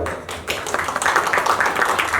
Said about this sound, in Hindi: उनके लिए जरा तालियां बजाओ यार